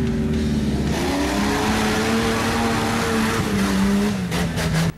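An off-road 4x4 on a muddy trail at a Guaramirim trail event, engine roaring loud and close as it accelerates hard, the pitch climbing and wavering with strain, tire noise beneath.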